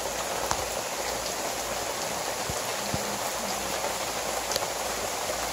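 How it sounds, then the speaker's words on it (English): Steady, dense rain hisses down onto surfaces close by around a cob building, an unbroken wash of patter with occasional louder drips and water pouring off like a gutter. "it is raining right now"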